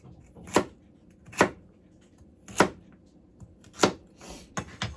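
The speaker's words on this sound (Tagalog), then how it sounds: "You just cut it into quarters. And then into little cubes again." A knife chops pork menudo ingredients into little cubes on a board, five or six sharp separate strokes at an uneven, unhurried pace, close and fairly loud with near silence between strokes.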